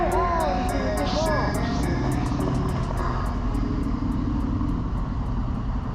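Motorcycle engine droning steadily as the rider eases off the throttle inside a frozen tunnel, a loud enclosed rumble throughout, with a voice talking over it.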